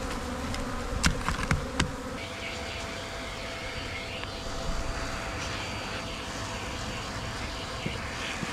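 Steady buzzing of many Africanized honeybees in a hive inside a tree fills the clip at moderate volume, with a few brief sharp clicks near the start.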